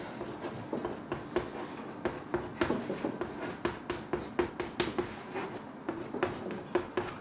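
Chalk or marker strokes on a classroom board, a quick irregular series of soft taps and scratches close by, steady throughout with no talking.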